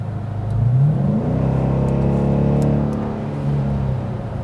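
Dodge Durango R/T V8 engine revving, pitch climbing sharply then holding a rough, throaty rumble close by, easing off and rising once more.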